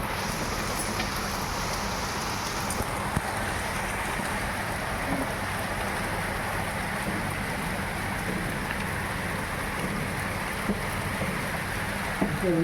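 Heavy rain pours down in a dense, steady hiss that holds at an even level from start to finish, broad and enveloping, with no voices over it.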